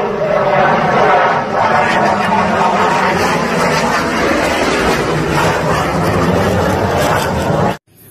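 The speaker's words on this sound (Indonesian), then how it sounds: "Yang ini jet tempur tuh teman." A toy fighter jet gives a loud, continuous roaring engine sound with a steady whine, close and unbroken for several seconds before it cuts off abruptly. A voice talks over it.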